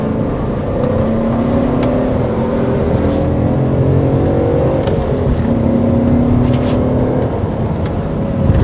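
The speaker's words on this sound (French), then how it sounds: "On entend légèrement le grondement, je sais pas si ça s'entend en vidéo, mais du V8 quand même." A BMW 730i E38 with a V8 engine and manual gearbox idles steadily, a low, smooth, continuous rumble with a faint hum on top, close and even, with no talking.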